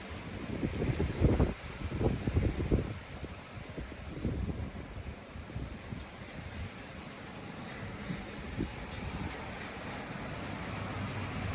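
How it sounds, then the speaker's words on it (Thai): Wind gusts during heavy morning rain in Auckland, a broad rushing noise that swells strongly in the first few seconds and then settles into a steadier, softer roar. "ลมพัดมาแล้วก็"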